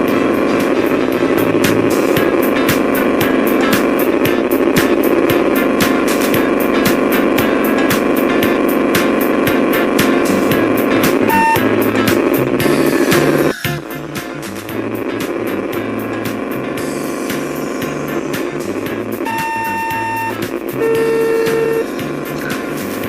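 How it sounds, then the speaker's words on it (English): Indy 500 racing video game with a car's engine whining steadily, loud and continuous, with electronic tones and shifts as it turns and hits other cars or barriers. "Listen to the realistic sound effects on this game of a car as it turns or runs into other cars or barriers."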